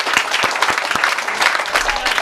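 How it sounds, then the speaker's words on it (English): Steady applause from a crowd at a digital music and guitar workshop, dense clapping that carries evenly through the whole stretch, fairly close and loud. "Can we just give him a round of applause for coming with me?"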